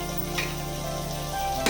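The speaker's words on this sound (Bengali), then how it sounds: "ওদিকে পেঁপেটা ভাজা হোক" Papaya fries in a pan with a continuous soft sizzle, a faint scrape or two of stirring breaking through the even hiss.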